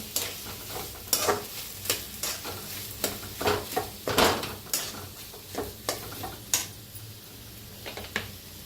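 Potato bhaji being stirred in a pan gives a close, steady run of spatula scrapes and clinks against the metal, with a soft sizzle underneath.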